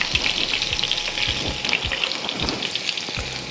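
Chopped garlic and parsley sizzle in melted butter in a pan, a steady bright crackle with a few soft low thumps from stirring, close and fairly loud throughout.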